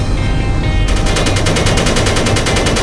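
Main gun firing in Space Engineers, a rapid regular stream of loud shots, each burst evenly spaced in a fast rhythmic pulse that starts abruptly and keeps going.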